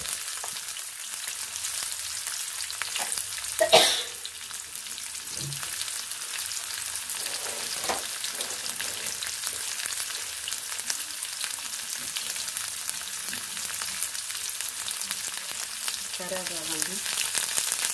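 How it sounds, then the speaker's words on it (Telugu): Tempering spices and chopped onions fry in hot oil for a potato curry, a continuous soft sizzle with an occasional stir or clink, close by and with no talking. "బంగాళదుంప కర్రీ చేస్తున్నాను. పోపు దినుసులే సార్, ఉల్లిపాయలు,"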